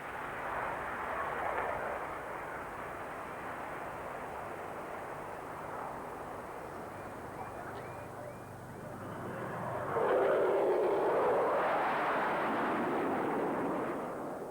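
An SR-71 Blackbird takes off on two afterburning jet engines with 65,000 pounds of combined static thrust. A steady, loud, rumbling roar builds and swells even louder toward the end.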